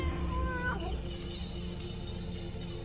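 A cat in the dark adventure game Tormentum: Dark Sorrow lets out a short, rising then falling meow over a low, murky ambient game background.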